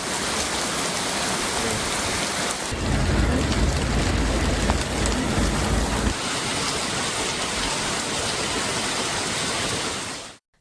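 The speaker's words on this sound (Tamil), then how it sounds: "நீலகிரி மாவட்டம் உதகை மற்றும் அதன் சுற்றுவட்டார பகுதிகளில் கனமழை பெய்தது." Heavy rain pours down steadily in Ooty in the Nilgiris district, a loud, dense hiss that swells heavier for a few seconds midway before settling back to an even downpour.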